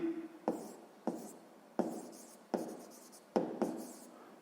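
Handwriting on paper comes as six brisk pen strokes, each a crisp scratch that trails off, spaced irregularly a half-second or more apart, near and soft with no voices.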